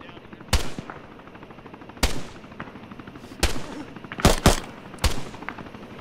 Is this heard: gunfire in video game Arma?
yes